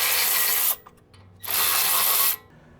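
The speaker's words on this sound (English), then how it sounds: "next we have to remove these 2 caliper bolts in order to remove the caliper." Ratchet wrench loosening 14 mm caliper bolts on a 2002–2006 Honda, two bursts of rapid clicking separated by a short pause, close and alone.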